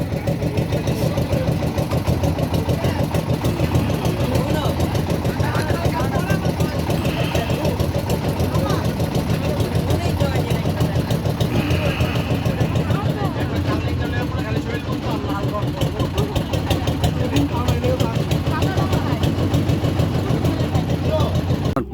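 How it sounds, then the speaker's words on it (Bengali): A fishing boat engine idles on the Turag river, a loud, steady mid-pitched chug that runs unbroken throughout, with some voice under it. "এই নৌকাটা আসছে মাছ ধরার জন্য। দেখেন এই মাত্র চালায় এখানে আসলো"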